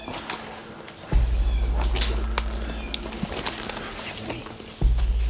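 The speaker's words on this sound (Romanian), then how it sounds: "Pisică." A cat meows inside an abandoned shoe factory, its repeated calls rising over a steady low hum and rumbling background noise.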